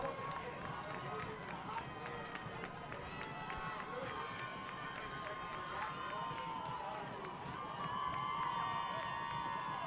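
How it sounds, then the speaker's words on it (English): A crowd at a high school football game at Sid Cichy Stadium cheers and roars in the distance, a fairly faint, continuous wash of voices with an announcer talking over it. "the crowd is getting loud here at Sid Cichy Stadium"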